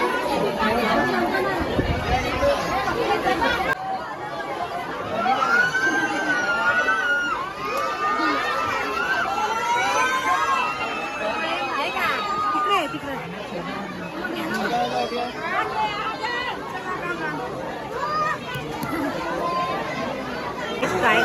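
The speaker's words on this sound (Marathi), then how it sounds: "गर्दी किती गर्दी असते" Dense crowd chatter fills the tiger enclosure at Byculla zoo in Mumbai. Children shout and voices overlap in a loud, continuous hubbub, with occasional cheering.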